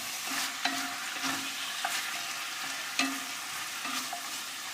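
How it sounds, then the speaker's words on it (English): Sliced potatoes for a Cumbrian tatty pot stirred in a pan, a steady sizzle with regular scraping strokes and occasional clinks, close and alone without talk. "Let me just stir"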